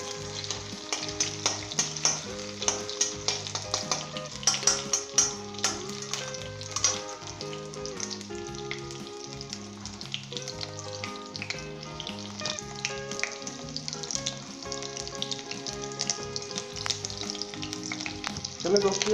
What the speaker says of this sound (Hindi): तो इसे 1 मिनट के लिए फ्राई कर लें।